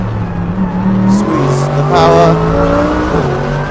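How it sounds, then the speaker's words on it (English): A race car at Spa-Francorchamps brakes hard for the final corner and drops several gears toward first, with the engine note stepping down through loud close blips and a brief tire squeal. "final braking zone for the lap, hard on the brakes down, a few more gears down to first"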